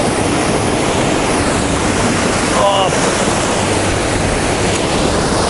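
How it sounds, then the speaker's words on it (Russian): Sea waves break against a pier at Khosta in Sochi in winter, a loud, continuous wash of surf and spray with a brief higher splash midway and no let-up. "сюда уже бьет волна, видите, водоросли выкидывает"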